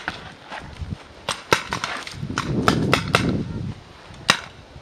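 Paintball guns firing during a game, a rapid scatter of sharp pops and snaps of varying loudness, some close and some farther off, over a rustling outdoor background.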